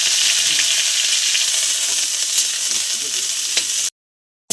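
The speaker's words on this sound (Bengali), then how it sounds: "এখানে আমি বরকলিটা ভেজে নিচ্ছি।" Broccoli frying in a pan makes a loud, continuous close sizzle with occasional crackles, ending abruptly in silence near the close.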